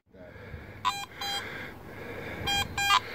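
A metal detector gives four short, bright electronic beeps in two close pairs, the second pair slightly louder, over faint background hiss with no talking.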